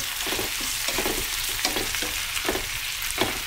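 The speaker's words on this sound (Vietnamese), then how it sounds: "khi hành tím và tỏi nó đã thơm rồi thì mình cho ốc vào xào" Snails stir-fried in a pan with shallots and garlic, giving a steady close sizzle broken by repeated scraping stirs at a loose, regular rhythm, with no voices.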